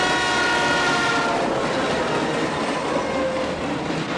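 A moving train rumbles steadily and loudly, with a drawn-out horn sounding over it at the start before fading into continuous rail and carriage noise.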